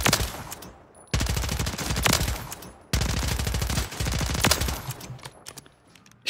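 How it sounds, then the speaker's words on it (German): H4 Blixen machine gun firing in Call of Duty Warzone, two long rapid automatic bursts of close, loud gunfire separated by brief pauses, with a shorter burst trailing off at the end. "Obwohl ich hier ein 100er Magazin habe, hat das Ding schon fast gar nicht Rückstoß."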